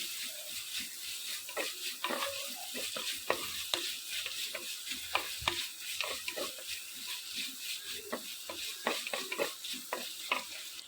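Onion paste sizzles and fries in a pan while a spoon stirs and scrapes it in quick irregular strokes, close up and continuous.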